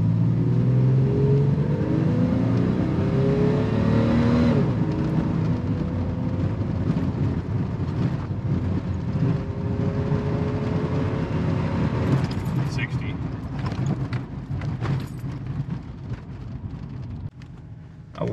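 A 1999 Jeep Cherokee in full-time four-wheel drive accelerates hard from zero to sixty. The engine roars close and loud and rises in pitch through several gear changes, then fades to road and wind noise.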